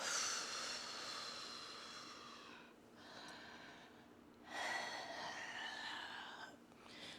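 Slow, airy breaths during seated chair yoga, two long soft inhale-exhale swells, close and quiet with no talk.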